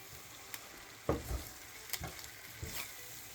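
Garlic butter parmesan noodles are stirred in a pan, giving a faint steady sizzle with a few soft scraping stirs.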